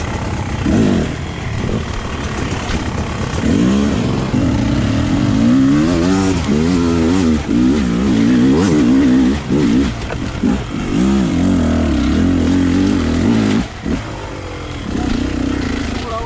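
A motorcycle engine revs and surges repeatedly during an off-road or trial ride, loud and close, rising and falling in pitch with brief pauses, with almost no talk over it.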